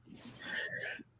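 A single short, breathy sneeze bursts out close by, quiet and lasting about a second in an otherwise calm indoor setting.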